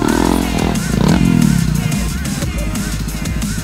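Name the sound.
motorcycle accelerating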